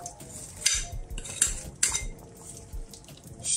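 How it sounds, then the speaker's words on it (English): A spoon stirs stewed oxtail with carrots and tomatoes in a pot, giving several distinct metallic clinks and scrapes against the pot in an irregular rhythm, close and fairly loud, with a wet sloshing undertone. "Stir this up."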